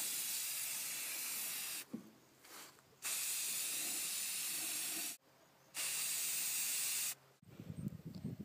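An aerosol can spray paints a rusty metal chair in loud, close hissing bursts of a few seconds each, three long sprays separated by short quiet pauses with faint handling noise.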